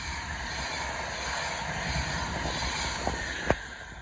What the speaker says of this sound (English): Pass through now is another Pendolino bound for Manchester Piccadilly